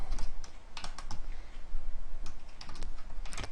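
Fast, uneven keystrokes rattle on a computer keyboard while code is being entered, with bursts of clicks separated by brief pauses, close and moderately loud over a faint room hiss.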